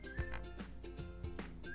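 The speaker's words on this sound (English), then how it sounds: "Whistle." A whistle blown in short repeated toots, fairly quiet, with a rhythmic pattern of brief blasts and no voices.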